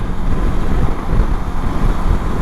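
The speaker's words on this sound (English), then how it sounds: "I'm in 6th gear, cruising at 70 down the motorway." A 2023 Honda CB500X motorcycle cruising in sixth gear at 70 on a motorway, mostly heavy wind rush and low engine drone, steady and loud with no voices.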